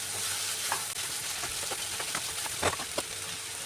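Vegetables sizzle in a hot pan with crushed garlic and a pinch of turmeric while a spoon stirs them, scraping and knocking against the metal in irregular strokes over a steady frying hiss, close up and with no talking.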